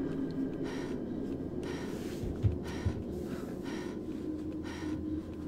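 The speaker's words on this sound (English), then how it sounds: "I'm not sure if that heavy breathing means that she's gained it back" Heavy, rhythmic breathing of a female character in the horror video game Claire, repeated ragged breaths and gasps every second or so, close and fairly quiet over a low background hum.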